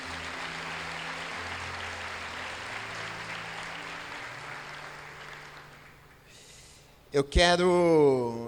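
A church congregation applauds during a Sunday morning Easter-season service, a steady wash of clapping over low sustained music for several seconds, fading before a voice and brighter sound come in near the end.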